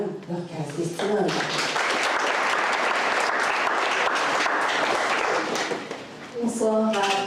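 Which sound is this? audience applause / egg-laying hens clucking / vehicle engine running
audience applause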